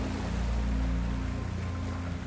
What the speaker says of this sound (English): Can you hear the sounds of the beach rocks